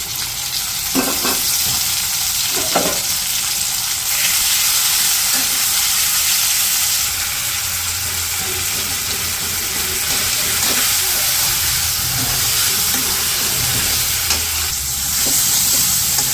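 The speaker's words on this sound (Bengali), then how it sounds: "এই যে পাশে টমেটোগুলো তো ভাইজে নিচ্ছি" Onions, green chillies and tomatoes sizzle and crackle in a hot pan, a steady loud fry lasting throughout with occasional stirring clatter and a faint low hum beneath.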